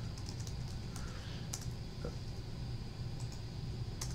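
Password being typed on a computer keyboard, with scattered soft key clicks over a steady background hum, faint and close.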